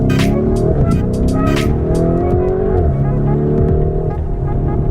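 A 2020 Lamborghini Urus engine roars loud and close, its pitch rising and then dropping sharply on a downshift, with crackling pops from the exhaust.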